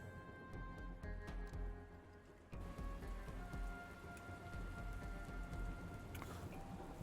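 Heavy rain pours over a desert landscape in the trucking video game Dustland Delivery, a dense continuous patter of drops with faint tonal game music underneath and a brief dip partway through.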